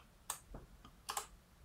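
Several light keystrokes on a computer keyboard, quiet and close, coming in two small clusters with a soft pause between them, no voices.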